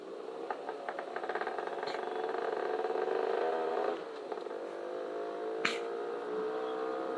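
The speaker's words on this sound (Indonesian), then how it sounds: "Oh, ada kendaraan." A motor vehicle on a misty tea-plantation road, its engine drone rising as it draws nearer, with a rattle and one sharp knock partway through.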